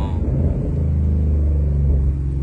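An American car engine rumbles loud and close, its deep idle throbbing steadily with a slight rev swell, heard alone.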